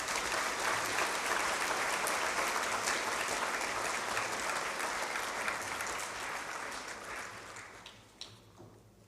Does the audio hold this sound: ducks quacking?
no